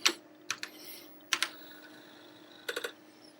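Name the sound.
typing on an Apple IIe keyboard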